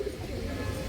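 A big, pure-blood female army pigeon at a pigeon farm gives a brief, soft, low coo, heard close and under a faint background hum.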